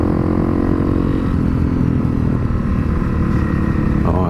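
A motorbike rides along a forest trail in Scotland's 3 Lochs Forest, its engine droning loud and steady from close by with slight shifts in pitch as the throttle varies.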